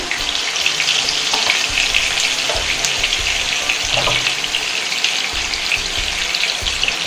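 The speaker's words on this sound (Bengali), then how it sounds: "এখন আলুগুলো একটু ভেজে নিব আলাদা আলাদা করে ভেজে নিব" Boiled potatoes fry in hot oil with a little turmeric, giving a loud, continuous crackling sizzle close up with no talking.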